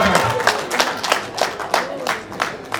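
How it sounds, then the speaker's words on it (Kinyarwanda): Guests at a wedding reception clap in a quick, rhythmic beat of bursts, loud and close, over about three seconds. "Amashyi y'icyo kimenyetso rero"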